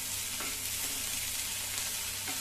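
Onion and amaranth greens sautéing in a pan, a steady close sizzle and fry with faint stirring scrapes, continuous with no talk.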